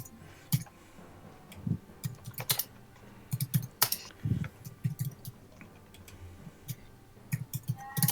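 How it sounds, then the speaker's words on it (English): Fast, irregular clattering of keys on a computer keyboard, close and fairly loud, with bursts of rapid taps and brief pauses throughout, no voices over it. "Someone's feverishly tapping away at the keyboard there."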